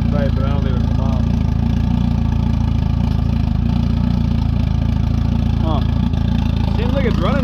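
A Jetta engine freshly fitted with a Haltech Elite 1500 ECU idles with a steady, loud low rumble throughout, while people talk intermittently nearby over it.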